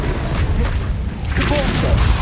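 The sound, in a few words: Bombarda blasting spell explosion in the video game Hogwarts Legacy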